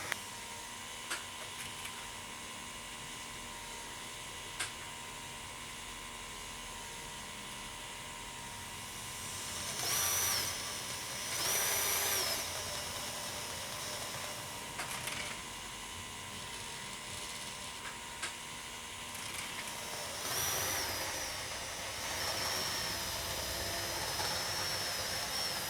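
A small model train locomotive motor whines steadily while shunting, struggling with wheel slip, with brief louder bursts of spinning wheels and motor strain breaking through a continuous electric hum.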